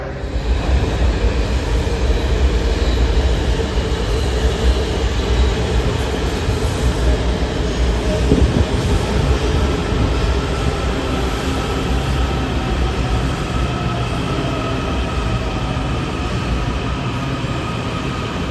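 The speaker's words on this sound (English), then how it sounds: "the last Silver Line train of the day brings us to L'Enfant Plaza Station" A Washington Metro Silver Line train pulls into L'Enfant Plaza station with a steady, loud rumble of wheels on rail that fills the whole stretch. Faint clatter and a brief screech rise near the middle.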